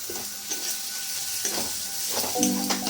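Tomato paste masala sautés in oil with kasuri methi for ghugni, giving a bright continuous sizzle close by. A few stirring scrapes stand out above it and no one speaks.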